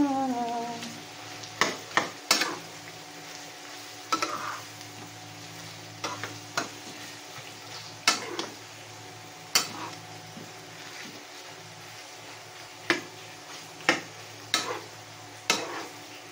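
Menudo stew being stirred in a frying pan, with spoon scrapes and knocks against the pan sounding in irregular bursts over a soft steady sizzle, fairly close.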